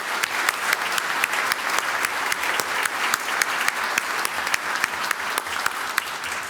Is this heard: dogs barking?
no